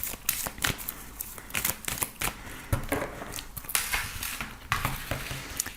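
Tarot cards shuffled by hand, a close series of irregular crisp slaps and riffles with short pauses between bursts, moderately loud, no talking.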